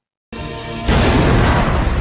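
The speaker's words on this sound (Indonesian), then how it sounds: "mendengar suara ledakan dari markasnya" After a moment of silence, a bomb explosion at a Dutch military headquarters: a low rumble swells into a loud, roaring blast that crackles and thunders on without fading.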